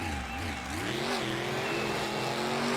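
A truck's engine revs hard with rising pitch while it spins around during a freestyle run in a vehicle stunt video game, the loud, steady engine drone continuing throughout with no talk.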